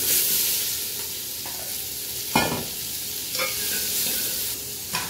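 Onion fries in rendered bacon fat, a steady close sizzle with occasional louder stirring scrapes, heard alone without speech.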